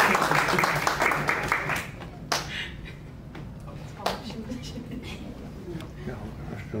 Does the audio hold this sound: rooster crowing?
no